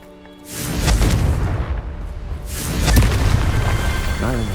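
A Confringo fire spell in Hogwarts Legacy bursts into a loud, rumbling explosion that swells, briefly eases, then surges again with crackling debris over a sustained low roar.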